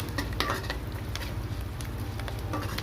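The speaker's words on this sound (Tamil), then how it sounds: "வெங்காயம் வந்து கரை விடாமல் கோல்டுகளாக வர அளவுக்கு வறுத்துங்க" Onions stir-fried in a pan until golden for vegetable idiyappam, giving a steady low sizzle and frying hiss with light scraping and stirring clatter throughout.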